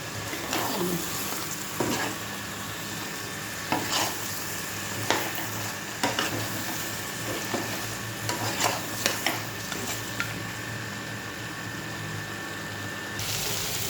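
Meat is stir-fried in hot oil in a pan, with a constant close sizzle. A spatula repeatedly scrapes and taps against the pan at irregular intervals, and there is no talk.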